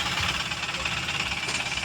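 A repaired Mahindra Supro engine runs steadily with a dense, continuous mechanical drone and slight knocking clatter, loud and close, with no talking over it.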